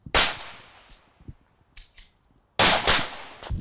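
Loud, sharp smoothbore shotgun blasts firing buckshot: one near the start, then a quick pair near the end, with faint clicks and handling noise between.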